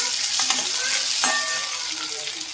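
Green chillies tossed into a hot pan with garlic and onion give a loud, dense, continuous sizzle with scraping stirs and a few sharp crackles, close and without talk.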